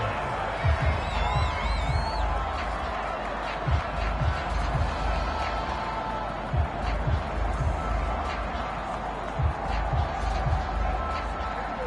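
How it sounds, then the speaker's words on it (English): A home crowd in a PlayStation 4 American football game, Cowboys playoff match, gives a steady roar with rising cheers behind a commentator's voice, with several short thumps scattered through. "They've got their home crowd into it as well."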